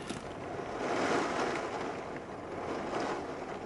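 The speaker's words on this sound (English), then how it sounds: "Here's the rain." Rain and wind outdoors, a soft steady rushing hiss with a gusty low rumble that swells slightly and then settles, moderately faint and continuous, with no talking.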